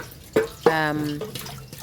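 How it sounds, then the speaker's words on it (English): Water poured into a container of ash, heard as two short splashes followed by a ringing, gurgling pour that fades out. A faint voice sits in the background. "and then you now start pouring water"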